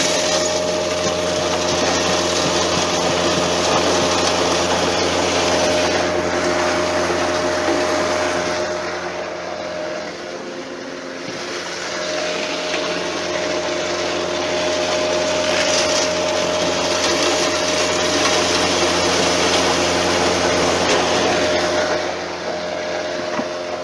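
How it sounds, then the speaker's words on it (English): A 24 by 16 hammer mill runs steadily, a loud continuous mechanical roar with a sustained whine and broadband grinding, dipping briefly near the middle before resuming at full strength. "This is one of our 24 by 16 hammer mills"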